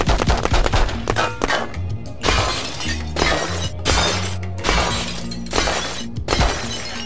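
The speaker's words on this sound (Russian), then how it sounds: "Все стекла разбиваются" Car windows and glass shattering repeatedly in the Los Angeles Crimes video game, a dense run of loud, close crashing breaks with heavy impacts, some overlapping and some separated by brief gaps.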